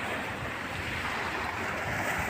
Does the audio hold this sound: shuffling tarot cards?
no